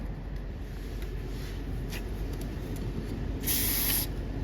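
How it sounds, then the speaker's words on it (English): Compressed air blasting through holes in a part from a flooded Craftsman 5HP Tecumseh single-stage snowblower engine: a steady close hiss with a brief louder burst near the end. "I'm going to blow out some holes, clean that up"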